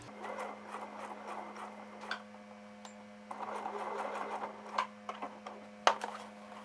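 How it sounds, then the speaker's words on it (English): A sewing machine stitches in the ditch along the seam joining the cuff of a navy dress pant hem, using gray thread; its motor hums steadily under a rapid, close mechanical ticking and rubbing. "we are going to put a stitch right in this seam connecting the cuff to the bottom layer"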